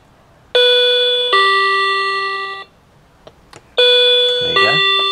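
Wireless door chime triggered by shorting the terminals of its push button, sounding two clear electronic ding-dong tones, a short pause, then a third chime starting again, loud and close with a few small clicks between.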